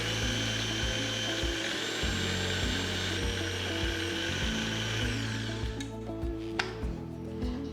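Mixer grinder running hard as it blends boiled chickpeas with water for hummus, a loud rattling whir with rhythmic churning pulses, close and with no talk over it.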